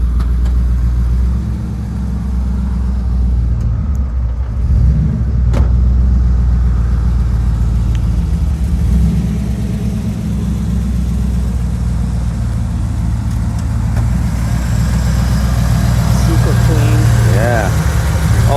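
A 1986 Camaro IROC-Z with a fuel-injected 383 stroker engine and six-speed runs at a loud, deep, steady idle close by, with voices talking over it.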